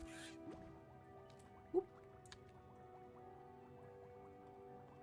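Water dripping in Final Fantasy XIV, quiet repeated drops and small liquid plinks over a faint ambient hum, with one brief louder squishy splash midway and a short spoken exclamation.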